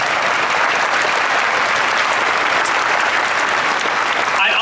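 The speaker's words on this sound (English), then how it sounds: "Round of applause, please." Loud, steady applause fills a ceremony crowd inside an aircraft hangar at JFK, continuous and even from start to finish.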